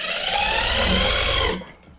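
A sewing machine stitching a seam on a gents kameez runs with a steady, close mechanical whir and rapid needle pulsing for about a second and a half, then stops abruptly.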